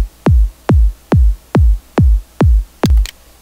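Seven deep electronic kick drum hits in FL Studio 8, one on every fourth step in a steady, even beat, each a punchy downward thump, loud and close with nothing else playing.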